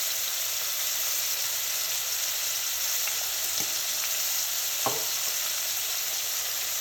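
Cumin and coriander seeds sizzle in a pot for a seafood soup, a steady bright frying hiss throughout with a couple of faint knocks of stirring.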